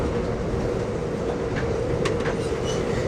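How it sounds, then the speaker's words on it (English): Amtrak's eastbound California Zephyr, train number 6, passing near Dell, Colorado, heard as a steady loud rumble of rolling rail cars with a few brief higher squeals and clicks over the continuous roar. "We're to pass our sister train,"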